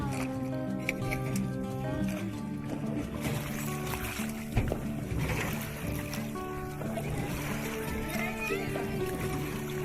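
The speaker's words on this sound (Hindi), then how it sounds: "ये पानी का हल्का बहाव और जो वो चल रहे हैं चप्पू, सो उसकी आवाज़ आपको बिल्कुल नेचुरल तरीके से आप उसे महसूस कर सकें" Gentle water flows and oars dip as boats are rowed on the river at Bhedaghat near Jabalpur, a steady, full wash of water and boat noise throughout.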